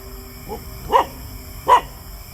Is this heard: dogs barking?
yes